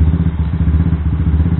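A Yamaha Vixion motorcycle fitted with an X1R 185cc bore-up kit idles loudly and close by, its engine thumping in a quick, steady pulse with a slight clattering edge.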